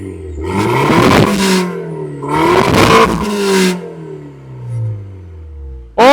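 The exhaust of a 2014 BMW 116i F20 M Sport revs sharply twice, each blip rising to a loud raspy roar then dropping back to idle, with a brief third rev at the end.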